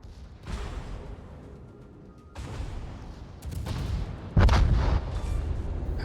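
Naval artillery salvos boom repeatedly from a Royal Navy cruiser, HMS Leander, in the World of Warships video game, with loud heavy blasts and a sharp, close burst near the end.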